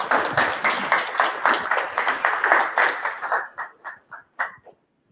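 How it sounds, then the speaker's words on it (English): A modest crowd claps for a speaker at an OWASP Ottawa security meetup; distinct individual claps are close and lively at first, then thin into scattered, fading claps before stopping. "Round of applause."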